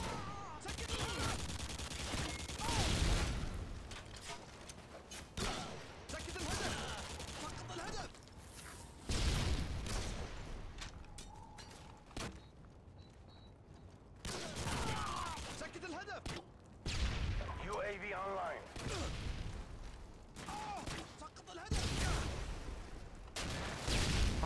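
Sniper and other gunfire ring out in a video game, with bursts of shots and booming reports in irregular clusters. Loud voices talk over the game audio throughout.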